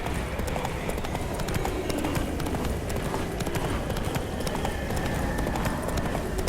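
Galloping hooves of Geralt's horse pound steadily in The Witcher 3 video game, a dense continuous clatter at full pace with no pauses.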